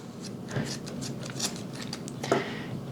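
Scissors snipping the trimmed ends of string silencer strands on a recurve bow, a few crisp close cuts over a steady rustling background.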